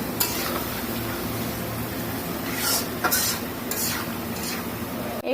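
French fries crackle in hot oil with a dense, close sizzle, while utensils scrape and clink against the pan in bursts.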